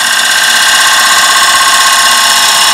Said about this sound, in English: and then slice into the wood